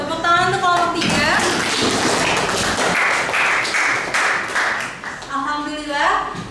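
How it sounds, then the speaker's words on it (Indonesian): A classroom group claps for a presenting student group during a teaching practice session, a few seconds of dense clapping framed by a voice speaking before and after. "Tepuk tangan untuk kelompok 3."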